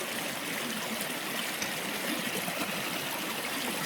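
Creek water rushing at Long Creek Falls, a steady, close, broadband splashing flow that continues without a break.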